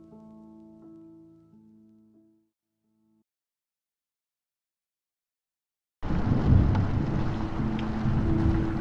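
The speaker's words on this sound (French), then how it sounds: "Le vent souffle tellement fort que si là on ouvre la porte, on ne pourra plus la refermer." Storm wind gusting outside a horse stable in the video game Star Stable: soft musical tones fade to silence, then a loud rushing blast of wind with low rumble cuts in abruptly and keeps roaring.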